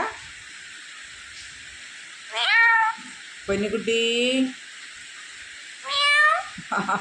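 A bird gives several squeaky, cat-like meows in short bursts, imitating a cat, between a quiet background hum and a brief human call.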